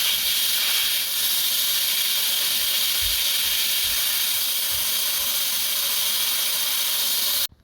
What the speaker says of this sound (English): We need something like that to release the air from the tire.